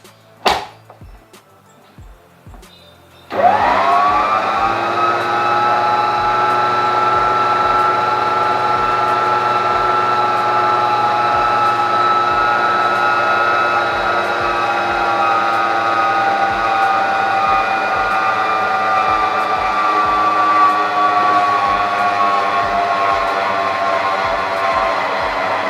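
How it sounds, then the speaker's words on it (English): After a few soft clicks, an electric mixer starts up and whirs steadily and loudly, beating shortening and icing sugar into buttercream with a constant motor hum. "I'll allow it to mix for another 3 minutes."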